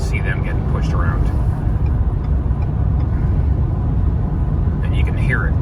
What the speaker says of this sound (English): I don't know if you can hear the wind blowing. It's blowing pretty damn hard this afternoon.